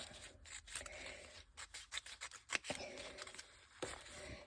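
Scissors snipping through clear tape while decorating journal pages, a run of quick, quiet close-up cuts and rubbing sounds in an irregular rhythm.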